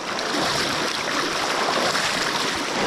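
Steady, loud rushing of river water at a crossing, broadband and unbroken throughout, with no voices over it.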